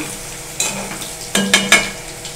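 Potatoes frying in a pan while chicken kosha is cooked, with a low steady sizzle and a few sharp spoon scrapes and clinks against the metal.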